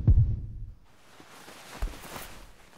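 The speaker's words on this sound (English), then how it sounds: "I heard a heartbeat." Deep, muffled video game heartbeat thumps pulse low at the start, followed by a softer thud under a faint airy hum.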